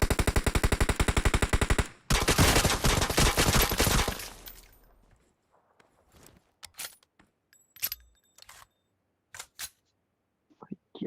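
Gunfire in PUBG Mobile: a long, loud burst of rapid automatic fire lasting several seconds, followed by scattered single shots and short bursts spaced by quiet gaps.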